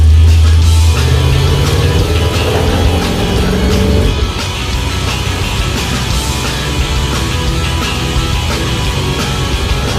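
The Roadkill Garage Tater Truck pulls out and gets up to speed for the freeway, its engine loud and close, with a strong low rumble that drops to a steadier cruising drone partway through.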